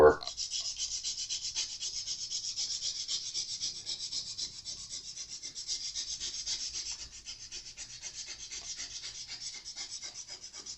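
Very fine sandpaper of about 800 to 1,000 grit rubs steadily over a Stratocaster guitar's finish, producing a close, continuous soft rasping that scrubs back and forth without pause and eases slightly toward the end.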